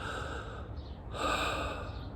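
A single human breath imitates the divine name Yod He Vav He, a soft inhale followed by a longer, airy exhale, close and quiet with no words.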